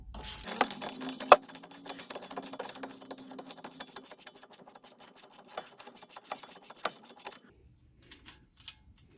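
A ratchet fitted with a T40 Torx bit turns out a strut mount bolt on a 2012 Chevy Cruze, giving a long run of rapid, evenly spaced close clicks that stop abruptly near the end.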